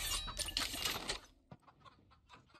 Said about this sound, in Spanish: Un gallo, hijo.